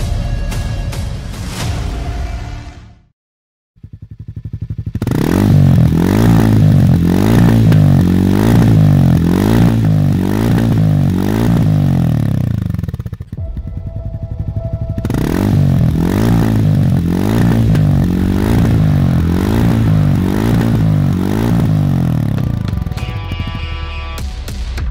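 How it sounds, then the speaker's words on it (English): A Hero Maverick 440 motorcycle engine revving hard in repeated rising pulses, loud and close, with a short silent break and then more sustained throttle blips, no talk. "It's time to start your story with a motorcycle that's built for pure riding. Meet the Maverick 440."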